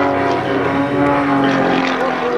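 A Red Eagle aerobatic propeller airplane drones loudly and steadily overhead during a 2005 air show at NAS Pax River, its engine pitch wavering slightly as it maneuvers, with crowd noise beneath.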